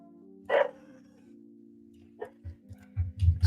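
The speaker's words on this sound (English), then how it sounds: "Excuse the dog barking in the back." A dog barks a few scattered times in the background behind a steady low electronic hum, with faint sharp yelps at the start and a few muffled thumps near the end.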